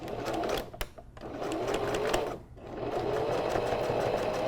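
A sewing machine runs in steady bursts as it stitches along the edge of a pleated curtain at a 3.5 stitch length, pausing briefly twice between runs of even mechanical whirring.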